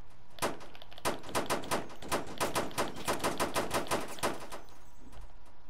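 Shotgun blasts in Roblox, a rapid string of more than a dozen sharp, loud reports with brief gaps between them. A few shots come in tight pairs, and the firing stops near the end.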